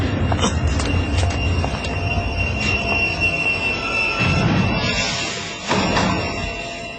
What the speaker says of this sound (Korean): 다시 열차가 들어왔으므로